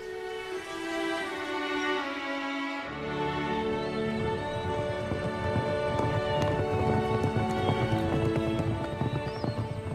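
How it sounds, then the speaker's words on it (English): Horses gallop in a steady rhythmic clip-clop of hooves with occasional neighing, layered under continuous orchestral music throughout. "Emma's horse set off at a gallop."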